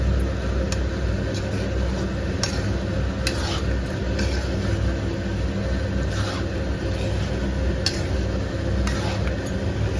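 A spoon stirs Amul cream into a vegetable dish in a pan on a gas stove, giving steady scraping and soft sizzling over a constant background hum, with faint scrapes recurring throughout.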